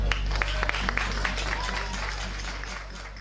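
An audience at an institutional ceremony opening the agri-food fair in Jaraíz de La Vera applauds the provincial deputy. Scattered sharp claps merge into a sustained wash of clapping, over a low electrical hum.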